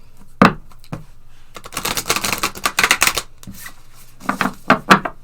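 A deck of Work Your Light oracle cards is shuffled in quick, papery bursts of riffling and rustling, with short pauses between the runs.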